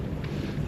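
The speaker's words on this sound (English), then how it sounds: "because it's a little breezy out here" Breeze blows steadily past a microphone aboard a sailboat in the Great Harbor off Mount Desert Island, Maine. The wind makes an even, low rumbling rush with no talk, lasting under a second.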